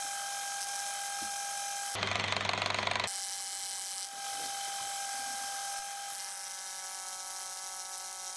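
A homemade bevel cutter runs at its highest speed with a steady high electric whine. A harsher, louder burst of about one second sounds as the cutters bite into the workpiece, and the tool keeps droning alone afterward.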